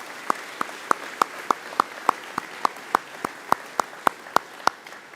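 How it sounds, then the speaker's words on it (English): Applause for graduates at the Harvey High School Class of 2025 graduation ceremony: evenly spaced, crisp hand claps in a steady rhythm, about three or four per second, moderately close and heard alone without talk. "One more round of applause"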